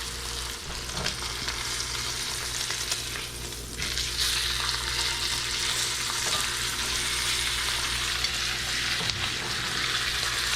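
A ribeye steak sears in a hot pan with butter, giving a steady, close crackling sizzle that runs the whole time with a few small spikes and no talk over it.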